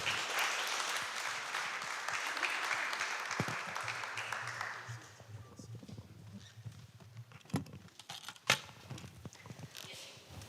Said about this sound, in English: Applaudissons-les s'il vous plaît pour les encourager toujours